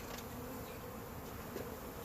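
A honey bee swarm being collected hums in a steady, dense drone that holds without a break for about two seconds at a fairly low level, with no voices over it.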